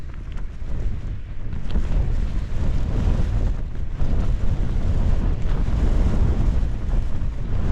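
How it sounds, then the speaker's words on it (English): Strong wind buffets the microphone at a wild camp on Hallin Fell, a constant loud low roar with gusting surges and no break for the whole stretch. "I've never been out in this strong wind before"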